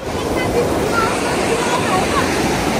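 A mountain stream flowing near a riverside picnic spot where fishing is possible, producing a loud, steady rush of water close by with no break for the full length.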